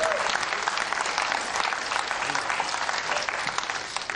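Dense audience applause at a comedy show, loud and steady throughout the few seconds, with no pauses.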